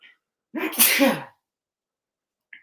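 A single loud, close sneeze with a sharp burst, surrounded by near silence.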